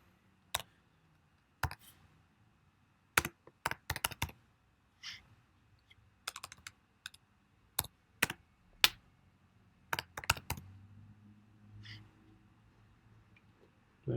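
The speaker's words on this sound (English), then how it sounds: "you just type in the product's name" Computer keyboard typing in scattered short bursts of crisp clicks separated by pauses, close and clear against a quiet room with a faint low hum.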